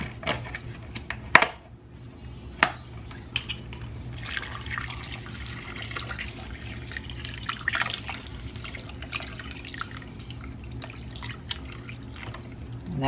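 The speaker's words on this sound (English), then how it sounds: "and I'm gonna pour until it's covered" Beef broth poured into a crockpot over a pot roast, a steady low liquid trickle with dripping and a couple of sharp knocks near the start, continuing evenly without talk.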